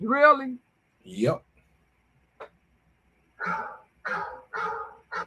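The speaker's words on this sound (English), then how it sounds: "That's my alarm telling me to put my eye drops in." A phone alarm with a dog-bark tone, set as an eye-drop reminder, goes off in a few short, punchy bursts close by, following brief conversation between people.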